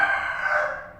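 An Aseel Java rooster from a Pindi Kalu Aseel breeding group in Mandi Bahauddin gives a single loud, close crow that holds steady and then trails off over about a second.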